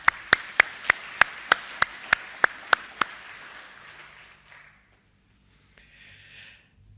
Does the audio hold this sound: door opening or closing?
no